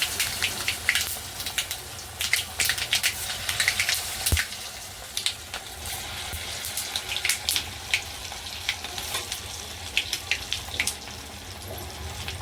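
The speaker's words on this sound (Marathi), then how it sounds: "हे बघा आता तेल गरम झाले, मी टाकून घेते" Pieces of coriander vadi made with kothimbir sizzle and crackle in hot oil, a continuous bubbling hiss dotted with sharp irregular pops, close and fairly loud with no talking.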